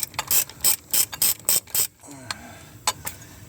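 A ratchet wrench clicks in quick rhythmic bursts while it backs a bolt out of a Chevy Cruze 1.4L turbo engine. The sound is close and loud, then falls to a few scattered clicks and faint handling noise.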